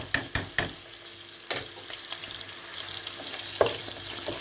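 Bone-in meat frying with a spoonful of pepper paste in a pot, a soft steady sizzle broken by a few sharp utensil clacks at the start and now and then, with no talking.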